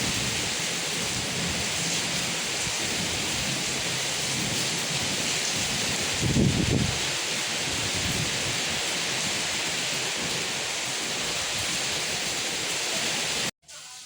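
Heavy rain pours in a dense, loud, steady hiss, and a low rumble of thunder swells briefly near the middle before the downpour carries on to an abrupt end.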